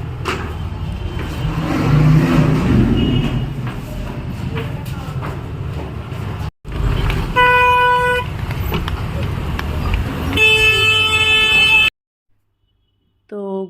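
Dense street traffic during Eid crowds, with a steady roar of engines and a busy murmur of voices, then repeated loud horn toots with clear tonal bands near the end before a sudden cut to silence.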